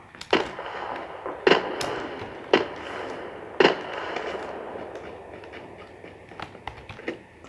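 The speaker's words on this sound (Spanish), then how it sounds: "escucho tiros por ahí" Several sharp gunshot cracks ring out in PUBG Lite over a steady rumbling background, spaced irregularly with a few fainter pops later on.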